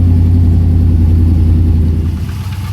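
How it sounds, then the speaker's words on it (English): An LS1 V8 engine in a Camaro or Firebird runs at a steady, loud idle just after starting, with a deep constant rumble and no talk over it. "so we'll start the car"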